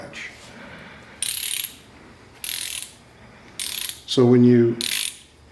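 Reel mower being pulled backward, its ratchet gear giving four short bursts of rapid clicking separated by pauses, close and crisp, with a brief spoken phrase in between.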